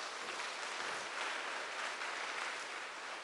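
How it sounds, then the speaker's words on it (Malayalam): A church congregation claps hands together in praise during a worship service, a steady, even wash of applause, soft and distant, continuing without break. "ഒന്ന് കൈയടിച്ച് കർത്താവിനെ മഹത്വപ്പെടുത്തുക."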